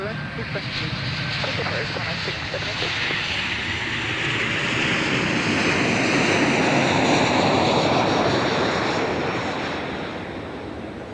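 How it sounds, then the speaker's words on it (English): A Batik Air passenger jet arrives on landing at Adelaide Airport, a broad, loud jet roar that swells steadily to a peak and then slowly fades, with faint radio chatter underneath. "Batik Air coming in from Denpasar."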